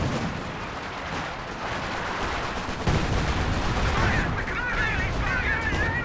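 Howitzer artillery fire in the Company of Heroes 2 battle game, a dense stream of distant booms and crackling shots over a constant battle rumble, with a brief louder thump midway.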